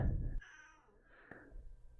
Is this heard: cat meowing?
yes